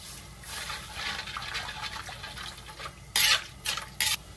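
Pancit in a pan being stirred after soy sauce, oyster sauce and brown sugar are added, with soft liquid sloshing and a few sharp clinks of a utensil against the pan near the end.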